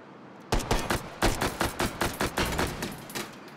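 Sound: gunfire from the VR game Hot Dogs, Horseshoes & Hand Grenades

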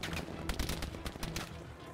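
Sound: cannon firing in Battlefield V video game

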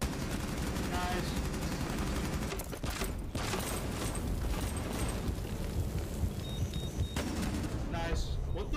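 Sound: light machine gun fire in a video game

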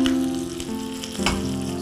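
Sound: tempering sizzling in hot oil

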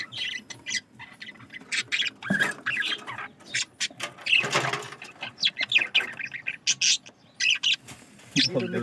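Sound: birds squawking and chirping on a farm

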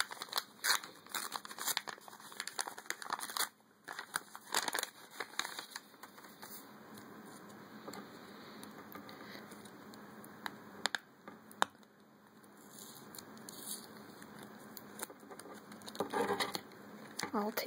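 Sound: opening a paper mail envelope

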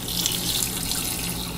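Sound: pouring two litres of water into a pot

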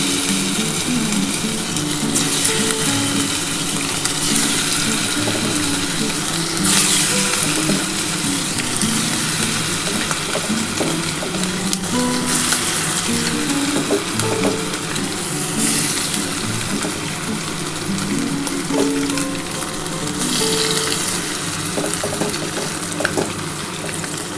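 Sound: frying chicken pieces for chilli chicken

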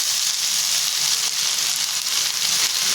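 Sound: roasting vegetable in a pan

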